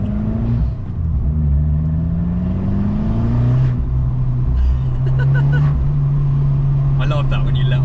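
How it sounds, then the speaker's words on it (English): An Abarth 595 Competizione drones along, then its exhaust crackles and pops in short bursts as the throttle lifts off, while a person talks over the engine noise inside the car. "It's got a sort of like farty backfire to it, doesn't it?"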